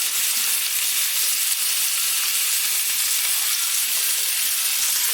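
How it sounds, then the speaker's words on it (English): Asparagus fries in a little oil and butter in a pan, giving a dense, steady sizzle and hiss that holds evenly throughout, close and fairly loud. "I've got some asparagus which I'm just frying in a little oil and butter"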